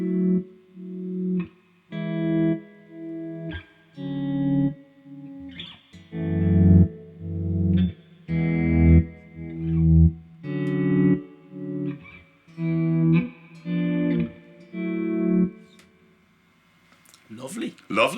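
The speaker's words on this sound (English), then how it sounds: "Genuine Fender Hot Rod Deluxe reverb." Electric guitar chords strummed in a steady, repeated rhythm through the spring reverb of a Fender Hot Rod Deluxe amp, each chord ringing out briefly before the next.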